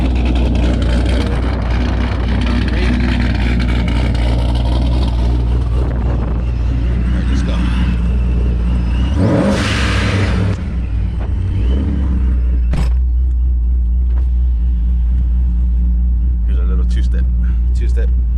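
A Pontiac G8 with a newly installed two-step idles with a heavy, steady rumble close by, its exhaust swelling into a rev partway through amid some sharp mechanical clicks and pops.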